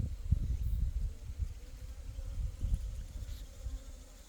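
Korean native honeybees buzz steadily around a hive, making a close, continuous low drone with wings flitting past now and then. No one speaks.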